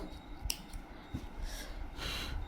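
Scissors snip tassel thread on a saree edge, a few quick close crisp cuts spaced irregularly over a quiet room background.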